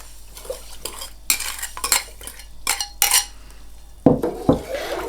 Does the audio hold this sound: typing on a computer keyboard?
no